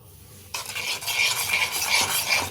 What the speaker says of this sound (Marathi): दोन्ही छान मिक्स करून घ्यायचे